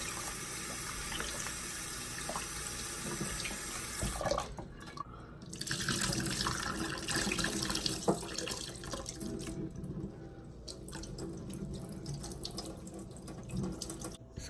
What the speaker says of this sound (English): I'm gonna wash my beans, and you normally don't wash canned beans